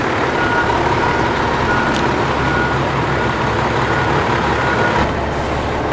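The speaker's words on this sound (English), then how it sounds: "Beep beep. Whoa, a beeper." A truck's reversing beeper sounds over a loud, steady engine rumble, the vehicle close by.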